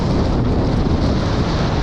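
Strong gusting wind on an open autumn lake shore during a cold October fishing trip, a loud continuous low roar buffeting the microphone with no break across the short stretch.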